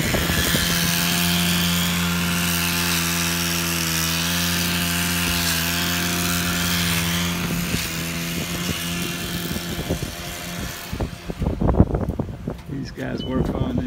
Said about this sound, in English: But look what they're doing, the trimming here.